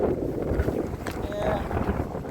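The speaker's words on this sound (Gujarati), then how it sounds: "અત્યારે એટલો પવન આવે ને કે વાત પૂછોમાં" Strong wind gusts roar and buffet the microphone in a constant rumble at a campsite, with people talking through it.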